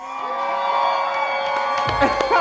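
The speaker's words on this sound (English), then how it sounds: "I need everybody up here to clap it up and make some noise" A crowd at a live event in Los Angeles cheers and whoops for a performer, a sustained roar of voices with a few claps near the end, loud and close.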